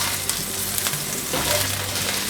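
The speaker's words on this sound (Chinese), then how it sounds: "把莲藕放进来炒" Lotus root stir-fried in a hot wok, a dense, continuous loud sizzle with faint spatula scrapes throughout and no talking.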